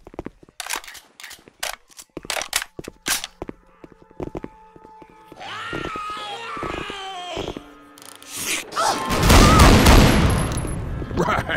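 Shotgun fire in the co-op zombie shooter Left 4 Dead 2: a run of sharp booming shots, followed by a dense flurry of gunfire and game effects, with voices in the background.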